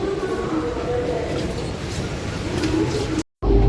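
A Hyderabad metro train with a steady rumbling rail hum and rolling noise, heard continuously at moderate loudness, with a short dropout near the end.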